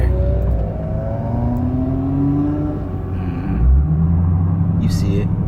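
A 2021 Dodge Charger Redeye accelerates at night, its steady rising supercharger whine riding over a deep engine rumble from inside the cabin, with a voice speaking over it.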